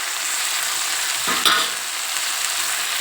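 Ridge gourd chutney with salt and ginger garlic paste fries in a pan, giving a steady close sizzle with a brief stir partway through.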